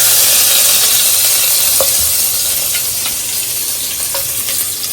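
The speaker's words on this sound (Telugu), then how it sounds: "ఆయిల్ ఇలా హీట్గా ఉండగానే లవంగాలు యాలకులు దాల్చిన చెక్క షాజీరా బిర్యానీ ఆకు అన్నీ వేసుకున్నాం" Cloves, cardamom, cinnamon, shahjeera and bay leaf crackle loudly in hot oil for fish biryani, a dense close hiss with a few faint scrapes of a spoon against the pot.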